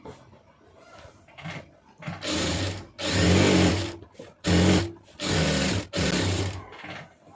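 A sewing machine stitches a chudithar in several loud, close bursts of rapid whirring, separated by short pauses and faint handling noises.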